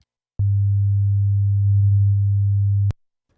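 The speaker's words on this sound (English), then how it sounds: "We get this level bump in the middle of the crossfade" A steady pure low sine tone crossfading into itself holds for about two and a half seconds, with a slight swell in loudness near the middle before ending abruptly with a click.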